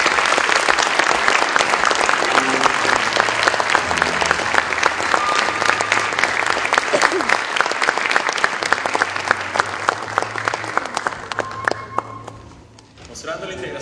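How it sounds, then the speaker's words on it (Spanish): Sustained audience applause at an evening talk on interculturality, loud and dense with many hands clapping steadily, fading near the end as voices emerge faintly. "darle este merecido aplauso"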